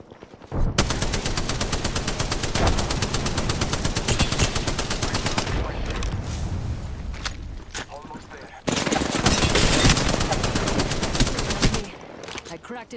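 Rapid automatic gunfire in a video game rattles in dense, loud bursts, with a brief lull before a second long stretch of continuous shooting, and a voice speaking faintly underneath.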